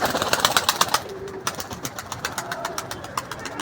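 Domestic pigeons coo and flutter nearby, with bursts of rhythmic calls and wing clatter over a faint engine hum in the background.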